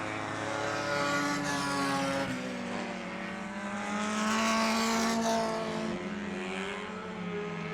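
Street stock race cars circle the PIR track, their engines droning and shifting pitch steadily at a moderate distance, with no voices over the continuous roar.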